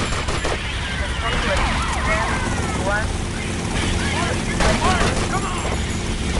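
Police gunfire in GTA Vice City erupts during a chase, with sirens wailing and chaotic bursts of shots crackling through a dense, loud game soundtrack while a voice talks over the action.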